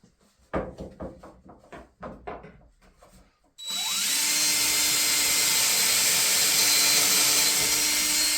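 A power drill runs continuously and loudly during a wagon rebuild, its steady whine starting abruptly after a series of sharp knocks and clamping sounds.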